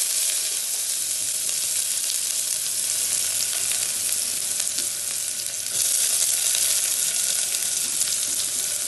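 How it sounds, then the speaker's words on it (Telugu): Onion pieces sizzle in hot tempering oil for a bottle gourd and tomato curry, a loud, steady, hissing fry up close that briefly intensifies partway through, with no voices. "ఇప్పుడు ఉల్లిపాయ ముక్కలు వేసుకుందాం"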